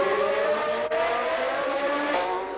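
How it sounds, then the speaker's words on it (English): Formula 1 race cars of 1979 at the Long Beach Grand Prix street race, including Tyrrell, Ligier, Williams and Lotus 79, a loud sustained high engine whine with shifting pitch as cars pass, recorded as a broadcast. "It's still the Tyrrell, the Ligier, now the Williams, and in sixth place the Lotus 79 of Mario Andretti. Magnificent motor racing."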